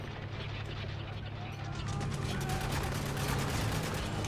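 A machine gun turret fires in the Spec Ops: The Line game, a fairly faint, fast rattle of shots under steady background noise with voices present.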